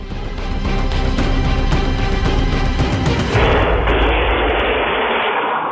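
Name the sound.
gunfire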